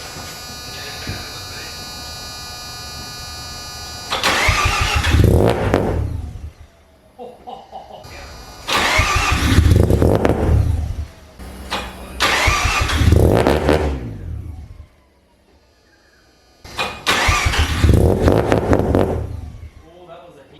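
A Mazda RX-7 FD with a T51R bridgeport rotary engine cranks in several long bursts separated by pauses, whirring and straining without catching; loud and close.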